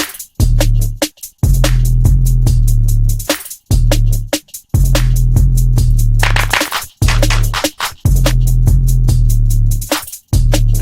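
A loud trap drum pattern plays in FL Studio, with booming bass kicks and hi-hats. Sharp clap samples hit at the start and end of the loop, which cuts off and restarts a few times.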